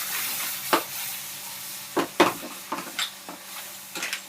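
Scallops sizzle in butter in a pan, giving a steady frying hiss with scattered sharp pops and spatters close by and no talking.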